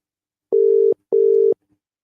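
Two steady telephone tones, each about four-tenths of a second long, separated by a short gap, from a phone call placed to someone at a football stadium that is not ringing through; clear and alone with no voices.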